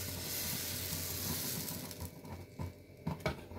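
Onion uttappam batter sizzling on a hot dosa griddle, a dense steady hiss that thins out and softens toward the end with a few light scraping taps, no voices.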